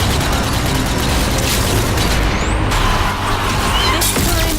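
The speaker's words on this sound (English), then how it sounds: "Some grenade throwing." Grenade explosions in the zombie shooter game Zombie Army 4 make a dense, continuous wall of loud booms, crashes and battle noise, with no clear gaps between blasts.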